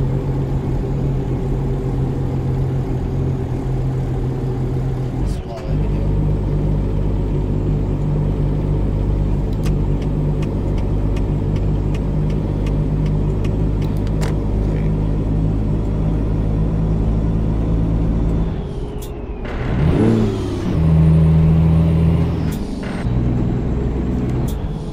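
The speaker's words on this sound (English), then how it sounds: "Come on, truck. Don't let me down now when we're on the bridge." A Peterbilt 389 truck engine drones steadily in Euro Truck Simulator 2 while crossing a bridge, a loud low rumble with hum tones, brief clunks, and a gear or air-brake shift near the end.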